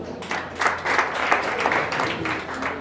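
Sustained audience applause at a Malian awards ceremony for a word-game final, a dense steady wash of many hands clapping at moderate loudness throughout, with no voices over it.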